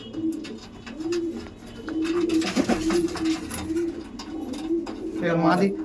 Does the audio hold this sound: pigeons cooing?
yes